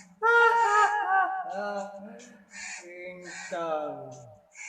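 A crow-cawing ringtone sounds, several loud, harsh harmonic caws in quick succession up close, with a low hum beneath.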